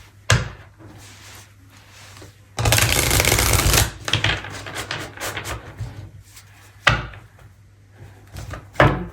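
Oracle cards are shuffled by hand during a tarot-style reading, with a dense riffling burst in the middle followed by softer card slaps and taps scattered across the clip, close up and without talk.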